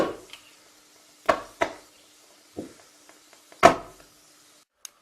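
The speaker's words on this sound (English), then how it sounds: "The bubbles explode, and that's the sound." Calcium carbide reacting with water, ethine bubbles bursting as small sharp pops and cracks, scattered irregularly with quiet gaps between them, a few louder snaps standing out.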